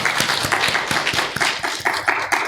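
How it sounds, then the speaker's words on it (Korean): A church congregation claps together in welcome during a Sunday service, a dense, steady patter of many hands, close and continuous throughout. "다 같이 우리 박수로 환영하겠습니다."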